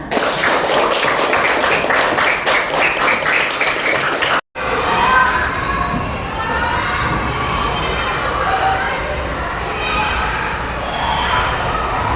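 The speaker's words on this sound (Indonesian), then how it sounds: "Tepuk tangan." Primary school pupils in a classroom clap rhythmically in unison, then break into loud cheering and shouting with scattered applause, a lively crowd of children close by.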